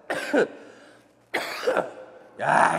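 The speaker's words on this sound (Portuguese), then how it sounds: "Aí tem a hora da tosse, né?" A man coughs three times in separate bursts, each followed by a pause, with the coughs close and fairly loud in a quiet room and no talk around them.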